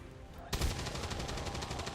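Gunfire in the video game XCOM 2 erupts suddenly after a quiet moment, a rapid sustained burst of loud shots continuing to the end.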